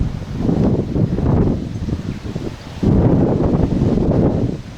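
Strong gusty wind roaring through foliage, a steady rushing noise that swells louder partway through, with rustling leaves and buffeting on the microphone.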